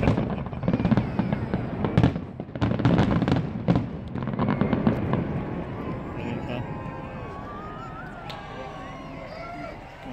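Fireworks finale celebrating a sailboat launch, watched from a distance: dense bursts of bangs and crackles in the first five seconds, then fading rumble and lingering echoes with faint crowd noise.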